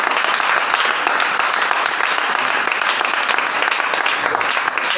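A church congregation claps and applauds in praise of the Lord, a dense, loud, continuous ovation filling the room without a break.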